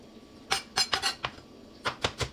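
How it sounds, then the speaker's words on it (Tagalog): A knife chops onions on a board in a home kitchen, a few sharp close taps in two short irregular bursts with quiet gaps between, no talk. "Maghihiwa ko ngayon ng sibuyas."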